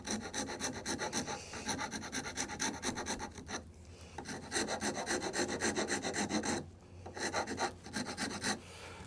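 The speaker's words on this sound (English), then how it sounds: "That was so rough, I decided to go with a rasp first." A rasp files across rough wood in steady, rhythmic strokes, close and scratchy, with two short pauses between bursts of rubbing.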